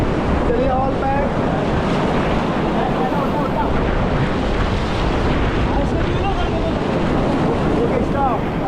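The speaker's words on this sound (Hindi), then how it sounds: "पीछे देखो झरना कितना बढ़िया है" Roaring whitewater rushes continuously as a raft moves along a river near a waterfall at Shivpuri, Rishikesh, with a loud, dense wash of churning water and wind buffeting the microphone.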